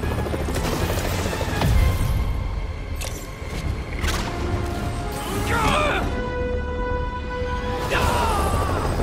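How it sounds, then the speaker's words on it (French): Helicopter in the video game Marvel's Spider-Man, a steady whirring rotor drone under busy game action with crashes and mechanical clatter, while voices talk over it. "Ils s'emparent d'un hélico."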